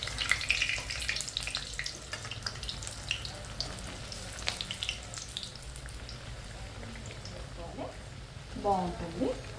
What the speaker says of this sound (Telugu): క్యారెట్, కొత్తిమీర అంత మంచిగా ఫ్రై అయిపోతుందండి